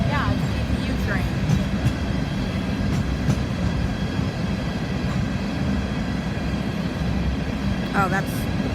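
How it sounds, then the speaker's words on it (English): A DPU freight train hauling empty coal hoppers rolls past with a continuous loud rumble and clatter of cars, with a few brief squeals over the steady roar. "Yeah, it's a DPU train."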